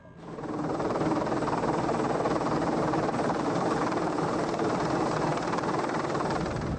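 A Pave-Low military helicopter flying, a steady loud roar of rotor and engine noise that holds constant throughout with no voices.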